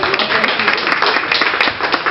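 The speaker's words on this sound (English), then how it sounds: "Go ahead, you can clap" A comedy club audience breaks into clapping, a dense, continuous patter of many hands at steady strength across the whole stretch, with faint voices mixed in beneath it.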